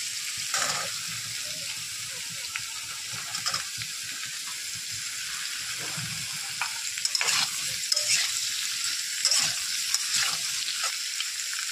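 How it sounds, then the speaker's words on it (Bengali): Plantains being fried in a pan of hot oil for a vegetarian curry, giving a steady sizzle with occasional stirring scrapes and bursts, fairly close and with no talking. "ভাজা হয়ে গেছে, আমি এর মধ্যে কলাগুলো দিয়ে দেবো।"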